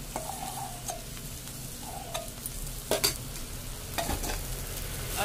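Boiled, mashed potatoes being stir-fried in a pan for a spicy sandwich filling: a continuous low sizzle with intermittent spoon scrapes and a couple of louder metallic clanks, no talking.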